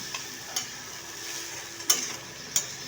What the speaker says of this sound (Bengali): এরপর আমি কিশমিশ দিয়ে দিচ্ছি দিয়ে এটাকে ভালো করে নাড়িয়ে নেব